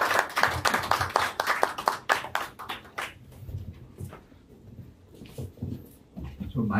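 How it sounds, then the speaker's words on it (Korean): Scattered audience clapping welcoming a pastor to the stage at a church conference, a burst of distinct claps at first that thins out and fades, with faint voices and room noise after. "우리 김진성 목사님 나오실 때 우리 한번 환영의 박수로 맞이하겠습니다"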